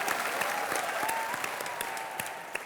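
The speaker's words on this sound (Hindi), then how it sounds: "एक बार जोरदार तालियां हो जाएं" Studio audience at an Indian television comedy show bursts into sustained applause, a dense wash of clapping holding steady and fairly loud throughout, with no voices over it.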